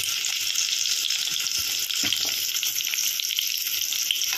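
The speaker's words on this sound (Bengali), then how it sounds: "কালো জিরে ফোড়ন দেওয়ার পর আলু আর পটলটা একটু সাঁতলে নেব।" Potato and pointed gourd fry in a pan of hot oil tempered with nigella seeds, a steady, close sizzle with soft stirring scrapes running throughout.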